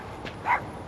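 A dog gives one short, close bark amid quiet outdoor background noise.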